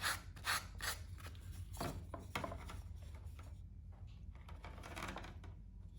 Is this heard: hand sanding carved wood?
yes